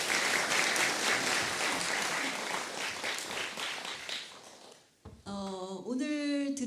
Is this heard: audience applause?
yes